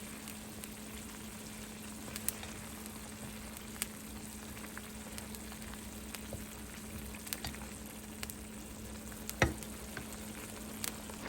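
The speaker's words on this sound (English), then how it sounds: "I'm gonna let it simmer for about, I don't know, 3, 4, 5 minutes." A Filipino dish with green onion simmers in a pan, giving a faint, continuous crackle with occasional small pops, quiet and steady with no talking.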